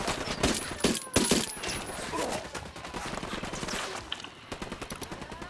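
Rapid bursts of gunfire from the Ghost Recon Wildlands video game, with dense overlapping shots crowding the first couple of seconds and then trailing into scattered, thinner shots.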